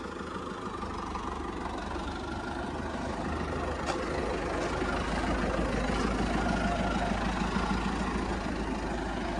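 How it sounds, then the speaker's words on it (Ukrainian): A tractor fitted with a quick-detach front loader runs with a steady, rumbling diesel idle, close and continuous, its low throb holding even throughout. "Треба дивитися, ну, то трактор."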